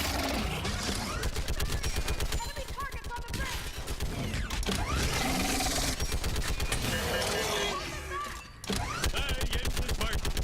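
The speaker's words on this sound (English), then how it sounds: "I love firing these mounted guns." A mounted gun fires in Mass Effect 3, a loud, rapid, sustained machine-gun rattle with mechanical creaks and combat noise, broken by one short pause before it resumes, with voices over it.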